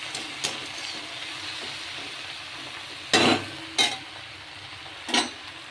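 Water spinach (kalmi shaak) frying in a pan with salt and turmeric, a soft steady sizzle broken by three short louder scraping stirs near the end, close and alone.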